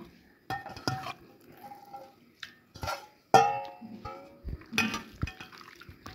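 Chicken pieces for tikka being mixed with chilli powder and spices in a bowl, with close clinks of utensil on dish and wet squishing stirs in scattered bursts, moderately loud and heard alone.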